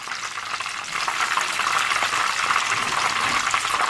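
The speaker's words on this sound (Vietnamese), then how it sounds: "Mình chiên ở lửa vừa" Eggplant sizzles and crackles in hot oil over medium heat, a steady bright frying hiss that grows slightly louder and continues without talk.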